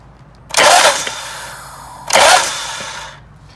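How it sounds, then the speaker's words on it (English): A Harley-Davidson Big Twin motorcycle engine with a loose compensator is cranked over twice in short whirring bursts, each about a second long, with a quiet pause between. "the engine's spinning over"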